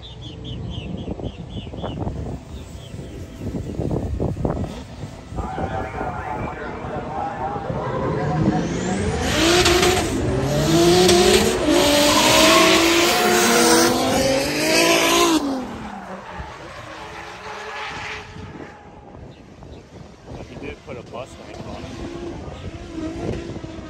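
Formula Drift Pro-Am cars at Hallett skid through a drift day, with loud tire squeal and engine roar building in the middle, then easing off as spectators talk nearby.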